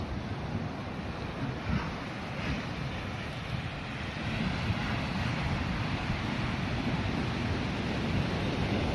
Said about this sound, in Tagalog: Isang malaking karagatan.